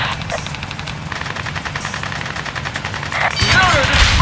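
Heavy gunfire in an Ace Combat combat mission, rapid repeated shots rattling through the whole stretch with a louder rumbling blast building near the end.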